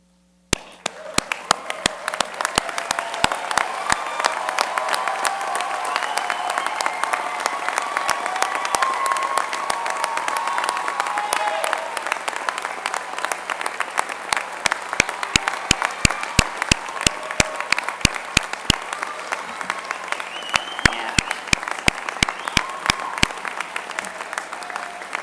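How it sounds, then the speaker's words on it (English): A commencement audience stands and applauds new optometry graduates at a college ceremony. Dense, steady clapping fills the room for about 25 seconds, with sharper individual claps standing out toward the end. "I'd like to ask the rest of us to all stand and applaud our newest"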